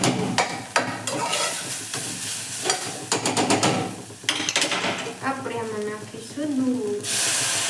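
Grated carrots are roasted in ghee for carrot halwa, with a spoon stirring and scraping rhythmically across the pan over a steady sizzle, while a person talks throughout.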